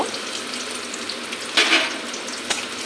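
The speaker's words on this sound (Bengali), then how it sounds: "আমি কড়াইতে তেল দিয়েছি তেলটা গরম হয়ে গেছে পেঁয়াজ কুচি কুচি করে কেটে রেখেছি" Finely chopped onions frying in plenty of hot oil in a wok (kadai), a steady bright crackling sizzle with a couple of louder spurts as they hit or are moved.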